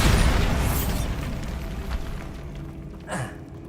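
Bombarda spell blast in Hogwarts Legacy: a loud, broad booming burst right at the start that rumbles and slowly decays over a few seconds, with a faint whoosh near the end.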